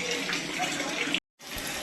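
Water gushes from a borewell pump into small buckets outdoors, a steady loud pouring rush that stops briefly and then resumes.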